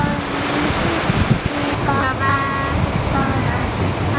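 Ocean surf rolling onto a sandy beach along a coastal road, a steady broad wash of waves with wind buffeting the microphone, while a voice speaks briefly in the background.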